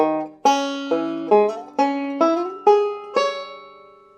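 An arpeggio on a classical banjo: seven plucked notes climbing steadily upward at about half-second intervals, each bright attack ringing and overlapping the next before a slow fade, clear and close with no voices.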